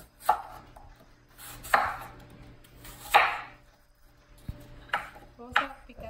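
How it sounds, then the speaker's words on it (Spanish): Fruit for a fruit salad is chopped with a knife on a board, about six sharp cuts spaced irregularly, close and clear over a quiet kitchen background. "Vamos a empezar a picar nuestra fruta."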